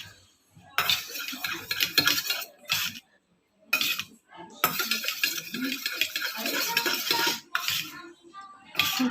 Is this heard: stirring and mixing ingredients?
yes